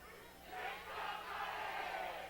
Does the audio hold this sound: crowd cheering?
yes